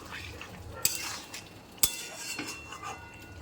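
Pumpkin curry is stirred in a pan: soft scraping with a couple of sharp metallic clinks from a utensil, over a faint low simmer, quiet and close with no talking.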